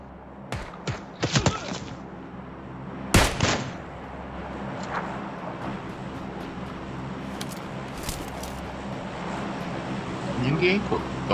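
Gunfire in the battle-royale video game PUBG Lite: a few sharp, loud shots near the start and another single bang around three seconds, then scattered fainter cracks over a steady low rumble, with players talking over it.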